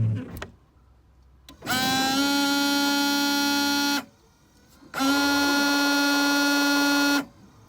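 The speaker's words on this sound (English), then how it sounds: "The next thing you're going to want to check is if you can hear the motor running." Washer fluid pump motor in a 2012 Dodge Journey running in two bursts of about two seconds each, a steady close electric whine with a quiet pause between them.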